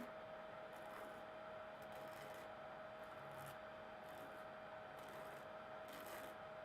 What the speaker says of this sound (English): So I'm going to file down.